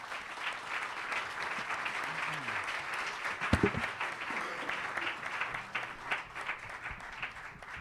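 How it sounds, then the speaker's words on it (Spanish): A church congregation claps in applause during a service. The sound is fairly faint and fills the room evenly, with a brief louder burst partway through and scattered voices underneath. "denle un aplauso al Señor"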